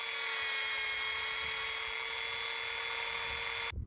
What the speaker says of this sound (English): So I'm going to crack on with some sanding.